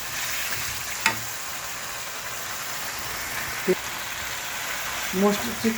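Chicken with bay leaf and spices sizzling in a pan as it is stir-fried, a steady broadband hiss with a few brief clinks of a spatula, close and moderately loud.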